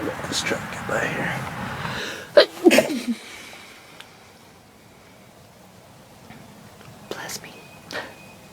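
A single sharp sneeze bursts out in the middle of a quiet outdoor scene during a Michigan turkey hunt, with soft breathy sounds and faint rustling before and after.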